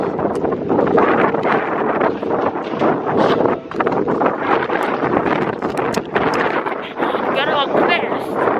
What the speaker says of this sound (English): Y'all don't know how hard this wind is. It is horrible.